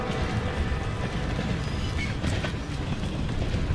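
Train in the video game Call of Duty: Vanguard, a steady low rumble with rattling and wind-like noise running throughout, loud and continuous with no clear breaks.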